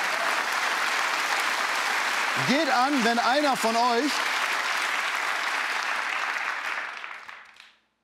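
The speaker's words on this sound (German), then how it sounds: "Noch wird Applaus geklatscht." Steady applause from a late-night TV studio audience fills the room for several seconds, with a voice speaking over it briefly, then the clapping fades out.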